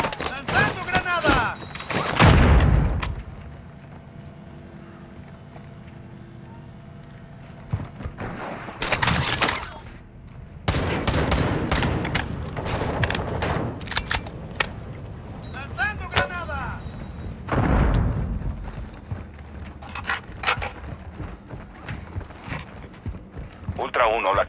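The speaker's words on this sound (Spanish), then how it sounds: "Están disparándole a los otros." Intermittent bursts of gunfire in the video game Call of Duty DMZ, loud clusters of rapid shots separated by quieter stretches, with people talking over the action throughout.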